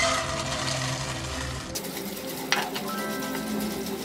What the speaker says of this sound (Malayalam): കുറച്ച് എണ്ണ ഞാനിനി മാറ്റി അതിലോട്ട് പൊട്ടുകടല ഇട്ട് കൊടുക്കും.